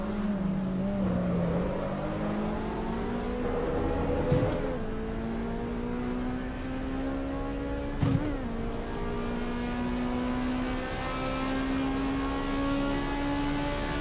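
A race car engine in the Assetto Corsa EVO racing game revs steadily upward through the gears, with two sharp shift blips partway through and a continuous high-pitched whine, heard alone without speech.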